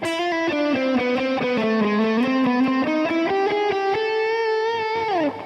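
A distorted electric guitar plays a quick single-note lick, notes stepping by half steps up and down in a smooth line before stopping.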